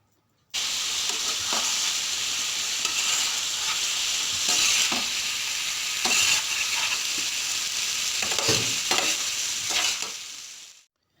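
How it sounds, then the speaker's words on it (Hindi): Chicken karahi masala, Lahore Lakshmi Chowk style, fries in oil until the oil separates, giving a steady bright sizzle broken by repeated scraping stirs, close up with no voices. "अब हम इसको इतना कुक करेंगे कि मसाले से ऑयल अलग हो जाए।"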